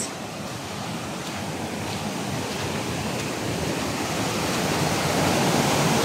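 A forest lagoon waterfall roars with strong rushing water, a dense and steady wash of sound that stays loud and close throughout and slowly swells, with no talk.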